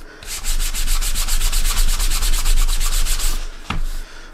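Steady back-and-forth brushing strokes polishing leather, a rapid rhythmic scrubbing that runs continuously for a few seconds, then stops with a final short swipe.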